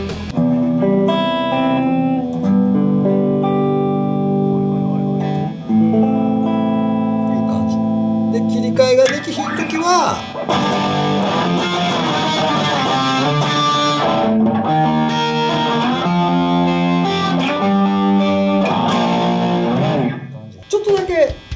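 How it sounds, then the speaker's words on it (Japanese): Electric guitar played through an effects unit with distortion, alternating between softly picked clean-sounding notes and harder-attacked, strongly distorted passages, loud and sustained with sustained chords and bends throughout. "ちょっと緩く弾いてクリーンっぽいのも弾けてガッと弾いたら 強く出る"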